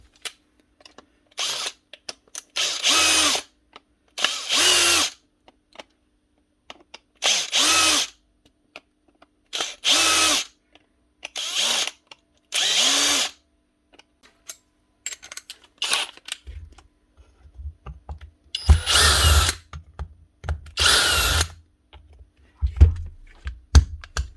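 A power drill backs screws out of a power tool's body during a workshop repair, running in a series of short, loud bursts separated by pauses, with a longer, rougher run near the end.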